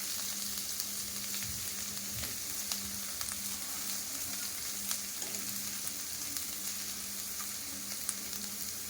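Onion frying in a pan for a spicy cluster-bean curry, a steady soft hiss of sizzling oil with occasional faint scrapes and taps of stirring, no voices.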